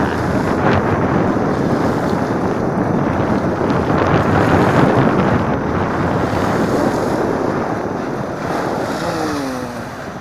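Strong wind roars and buffets the microphone continuously, with surf washing in beneath it, at a baywalk in Calamba.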